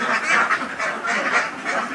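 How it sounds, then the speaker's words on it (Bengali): Ducks on water, kept for farming, give repeated nasal quacks in short bursts that run steadily and fairly close, with no talk over them. "দেখতে পাচ্ছেন হাঁসগুলো কিন্তু পানিতে অনেকটা স্বাচ্ছন্দ্যে রয়েছে"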